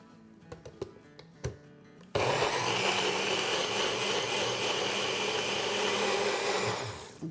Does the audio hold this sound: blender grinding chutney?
yes